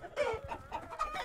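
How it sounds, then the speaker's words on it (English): Several chickens in Totally Accurate Battle Simulator cluck in quick, overlapping bursts, fairly close and continuous over a short stretch, with a slightly electronic, game-like quality. "Looks like he's just spawning chickens."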